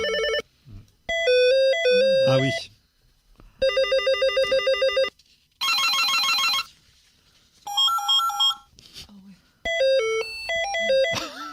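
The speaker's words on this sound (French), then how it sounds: "il y a un son qui existe encore et qu'on a tous entendu, c'est celui des téléphones de bureau" Old office telephones ring in a series of electronic trilling tones and bell-like bursts, loud and close, separated by short pauses, with a brief spoken remark between rings.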